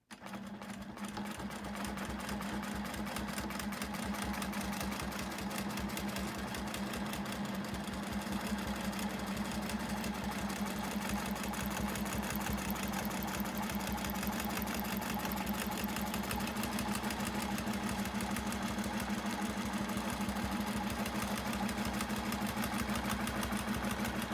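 A sewing machine stitches a quilt while guided along a Westalee Spin-E-Fex ruler, running as a steady close mechanical hum and rapid needle chatter for the whole stretch without any speech.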